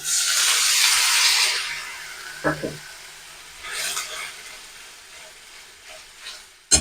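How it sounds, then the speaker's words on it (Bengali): Onion, ginger and garlic frying in a pan for stuffed pointed gourd, a loud broad sizzle at the start that fades into a softer hiss, broken by a few clinks of stirring. "পেঁয়াজ আদা রসুনের কাঁচা গন্ধ যাওয়া পর্যন্ত একটু ভেজে নেবো"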